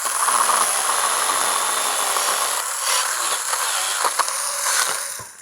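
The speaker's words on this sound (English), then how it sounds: "It's the perfect device for cutting up bits of wood like this." A battery-powered saw buzzes steadily through small pieces of wood, a continuous bright whine with a few sharp clicks near the end, no talking.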